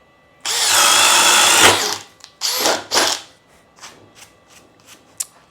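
A Diablo Speed Demon spade bit spun by a drill at speed 2 lets out a loud, sustained drilling whine for about a second and a half, followed by several shorter whirring bursts and light rattling.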